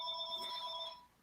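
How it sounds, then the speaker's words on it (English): A telephone rings with bright, steady electronic tones for about a second, then fades out, sounding a little distant behind a podcast recording about ammunition reloading. "Educated phone ringing in the background."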